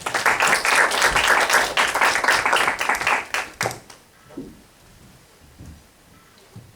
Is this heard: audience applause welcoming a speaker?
yes